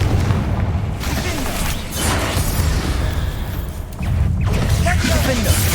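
Confringo fire spell explosions in the video game Hogwarts Legacy, a series of loud booming blasts and bursts with crackling debris, several impacts across the clip amid game sound effects.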